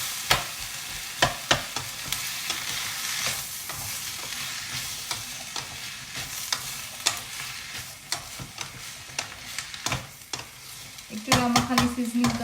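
Boiled kidney beans sautéing in a pan, a continuous close sizzle broken by repeated sharp clicks and scrapes of a spoon stirring, irregular and busy, with a brief tonal clatter near the end.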